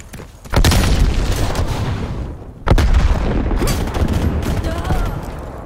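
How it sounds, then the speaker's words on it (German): Grenade blast in Call of Duty Black Ops Cold War multiplayer: two heavy booming bursts, one near the start and another about two seconds later, each followed by sustained rumbling combat noise. "Granate geht raus."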